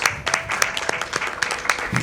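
Scattered applause and clapping from a small audience at a Celeste speedrun charity event, steady light clapping with a few sharper hand hits throughout.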